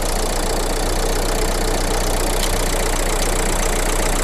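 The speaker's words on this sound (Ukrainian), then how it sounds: "так у нас працює двигун." A 2014 Renault Kangoo engine idles steadily up close, a continuous even rumble with a faint rhythmic ticking and no other sounds.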